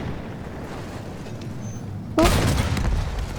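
A single heavy artillery blast booms suddenly in Battlefield 1, breaking a steady windy rumble and then trailing into a rolling roar.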